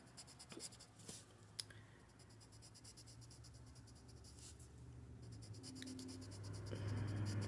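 A paper stump blends graphite across slightly scratchy paper in soft, close rubbing strokes that come and go quietly, with a low background hum that grows toward the end.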